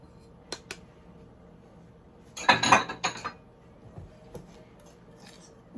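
Flour goes into muffin batter in a bowl and is stirred, giving a brief burst of spoon-on-bowl clinks and scrapes in the middle, then a few lighter taps in an otherwise quiet room.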